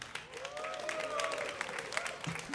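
Crowd applause and cheering from an audience at a DreamHack SteelSeries StarCraft esports tournament match, a steady broadband wash of clapping with faint voices and tonal cheers rising through it.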